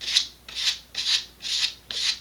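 Steady back-and-forth sanding of an Estes Optima Pro model rocket fin, five even rasping strokes about half a second apart, close and alone.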